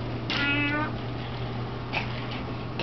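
A house cat gives one clear, close meow early on, followed by a fainter, shorter call near the end, over a steady low background hum.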